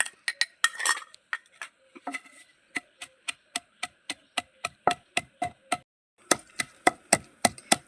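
Green chillies and mint with salt and sugar being pounded in a mortar with a wooden pestle for raw mango chutney, a quick cluster of hits followed by a long run of sharp, evenly spaced thuds, close and clear with no talk.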